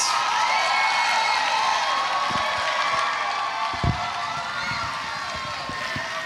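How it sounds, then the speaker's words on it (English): Crowd at a Utah America Pageants Triple Crown finals cheering and applauding the top five finalists, a dense, steady wash of clapping and whoops from a large audience that carries on throughout. "Let's give a huge round of applause to the top 5 finalists"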